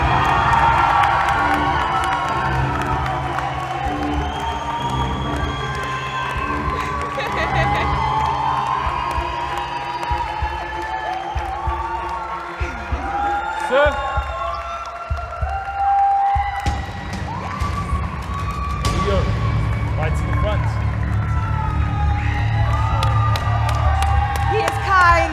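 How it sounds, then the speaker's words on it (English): An audience at the Mr. World South Africa 2021 pageant cheers and whoops loudly, with shouting and scattered clapping across the full stretch. The noise swells further near the end. "stand up and make some noise for your new Mr. World South Africa 2021, Sean!"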